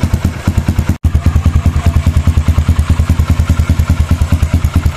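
A repaired Kawasaki Wind 125 motorcycle engine runs nearby with a steady, thumping single-cylinder beat, loud and even throughout, interrupted by one brief dropout near the first second.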